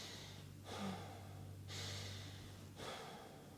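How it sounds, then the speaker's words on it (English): Slow breathwork done through the nose, with long airy inhales and exhales in a steady rhythm, close and soft over a low steady hum. "The breath work is through,"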